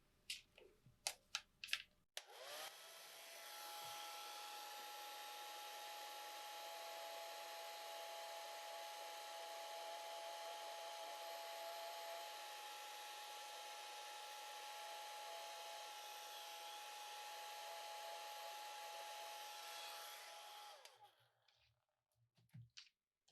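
A hair dryer blows steadily for about nineteen seconds over a watercolor painting of a bunny, a loud even whoosh with a faint motor whine, starting and stopping abruptly after a few brief clicks.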